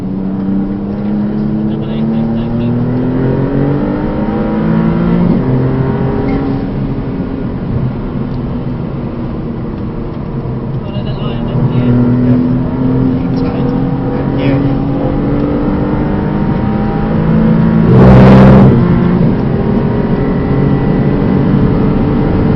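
A Maserati MC20 sports car accelerates hard down a race track straight, its engine a loud, steady drone with rising and shifting pitch, heard from inside the car while someone talks throughout.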